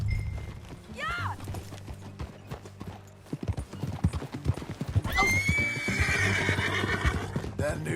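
Horse in the game Red Dead Redemption 2, with steady hoof clip-clop throughout, a sharp whinny early on, and a louder, longer neigh near the end over game music and ambience.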